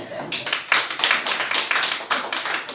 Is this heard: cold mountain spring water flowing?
no